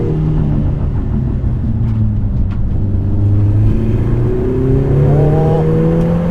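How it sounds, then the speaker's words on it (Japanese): A Lotus Emira 2.0 turbo accelerating hard on a wet, winding road in light rain, engine note climbing steadily in pitch with rising revs, loud and close from inside the car. "結構ねもう3000回転ぐらいからかなり力強い加速しますね"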